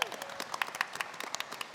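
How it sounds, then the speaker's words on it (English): An audience claps for a question answerer at a live tabletop role-playing game show, a faint, scattered patter of separate hand claps in an uneven rhythm across a short burst. "A round of applause for our question answer"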